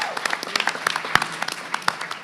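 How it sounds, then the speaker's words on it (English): Audience at a labor summit applauding panelists, a modest group clapping with distinct individual sharp claps standing out over a softer wash of hands, fairly close and steady. "So one more time, y'all give them a round of applause."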